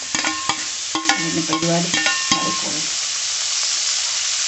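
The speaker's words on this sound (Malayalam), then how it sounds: "നമുക്ക് സവോള ഇതെല്ലാം ഇട്ടേക്കാം." Onion, green chili and vegetables frying in a pan for a vegetable stew, with loud scraping stirs and clanks in the first few seconds, then a steady close sizzle alone.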